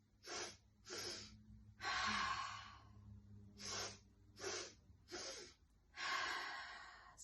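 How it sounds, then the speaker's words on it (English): Breathing exercise during gentle chair yoga: two sets of three short sniffing inhales, each set followed by a longer breathy exhale through the mouth, soft and close with nothing else heard. "So you're going to breathe in in 3 segments. It's going to be like this. Sniff, sniff, sniff, and then exhale through the mouth."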